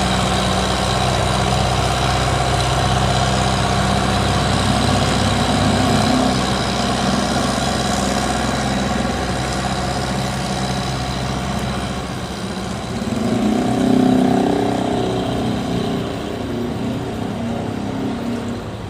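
A large trawler boat from Kien Giang runs its heavy engine on a narrow river, giving a loud, steady low drone that swells briefly midway before settling back, with no voices.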